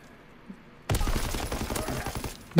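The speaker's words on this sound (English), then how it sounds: "What'd you hit me with? BB gun." Rapid bursts of BB gun fire in a video game start abruptly after a quiet moment, rattling off in a dense, loud volley with no talking over them.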